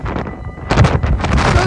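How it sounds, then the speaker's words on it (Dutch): Strong wind buffets the microphone outdoors near a railway, producing loud, rumbling low gusts that surge and swell after a quieter start. "Sorry voor de wind, kan ik niks aan doen."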